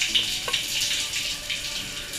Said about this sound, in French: d'abord prendre sa douche avant d'aller au sauna